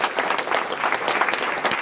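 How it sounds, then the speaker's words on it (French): Audience applause at a round-table discussion in Lyon, a brief burst of steady indoor clapping from a seated crowd, moderately loud and heard on its own. "Applaudissez-la"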